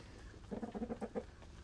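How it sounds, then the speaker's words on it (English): A chicken clucks in a quick run of about seven short, evenly spaced clucks, fairly close, with no talking. "Again with the chickens, which you hear in the background."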